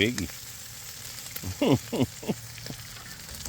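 Detwiler's corn smoked bacon frying in a pan on the stovetop, a steady crackling sizzle with several brief louder bursts as strips are moved with tongs, close and fairly loud, with a voice speaking briefly at the start.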